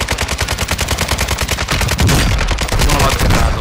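Call of Duty: Modern Warfare II gunfire: an automatic weapon fires a rapid, even stream of loud, close shots, swelling into heavier overlapping bursts midway.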